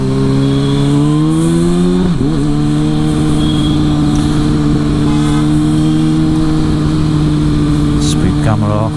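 A Kawasaki Ninja ZX6R motorcycle engine drones loud and close during a test ride, holding a steady hum with a brief dip and gear change partway through, then another shift near the end.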